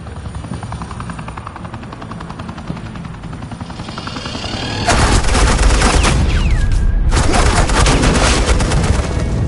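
Suppressing gunfire in the video game Batman: The Enemy Within bursts in midway as dense, loud automatic fire. It sits over a steady helicopter-like roar that builds before it, with a brief pause in the middle of the shooting.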